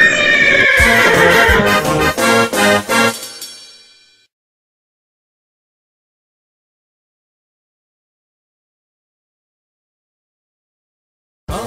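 A cartoon horse gives a loud, shaky whinny lasting about three seconds that fades out into silence.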